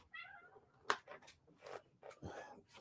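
A cat meows several times in short, close cries, each breaking off after a moment, in a quiet room with a faint voice nearby.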